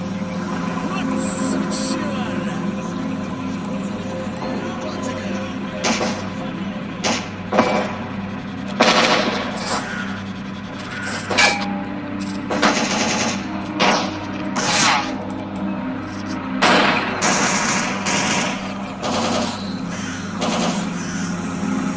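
AN-94 rifle fire in the game Anomaly, sharp shots popping in scattered bursts over a steady background hum.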